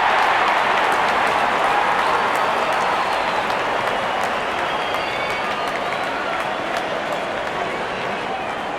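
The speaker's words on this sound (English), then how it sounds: "the crowd cheering in anticipation" Dense, steady crowd roar fills a packed cricket stadium during an India versus New Zealand match, with broad continuous cheering and scattered applause holding loud and even throughout, no single voice standing out.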